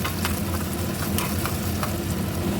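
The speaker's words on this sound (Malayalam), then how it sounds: "ഉള്ളിയും കറിവേപ്പിലയും ഇട്ട് കൊടുത്തിട്ടുണ്ട് ഇത് നന്നായിട്ട് മൂപ്പിച്ചെടുക്കാം" Shallots and curry leaves frying in coconut oil for a homestyle prawn curry, a loud continuous sizzle close up with occasional soft stirring scrapes.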